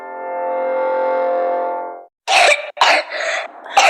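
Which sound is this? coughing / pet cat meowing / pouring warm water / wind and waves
coughing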